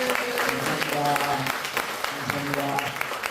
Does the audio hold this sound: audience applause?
yes